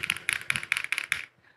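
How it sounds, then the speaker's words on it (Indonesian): Typing on a mechanical keyboard: six quick bursts of crisp, clacking keystrokes, close and alone, then a short quiet tail. "Bukan keyboard yang buat mainin alat musik ya, tapi keyboard yang bunyinya kayak gini."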